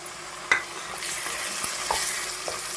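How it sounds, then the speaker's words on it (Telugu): Chopped tomatoes sizzle and fry in a pan with fried onions for a gongura egg curry, with a spoon stirring and scraping at close range under a steady hiss, no voices. "ముందుగా కట్ చేసి పెట్టుకున్న టమాటాలు అయితే వేసేసుకోవాలి."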